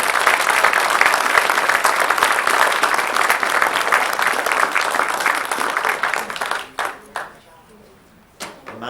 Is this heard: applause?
yes